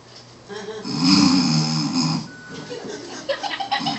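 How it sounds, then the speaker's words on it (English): A long, rumbling snore is drawn in and trails off, followed by a few brief, softer sounds. "He was snoring."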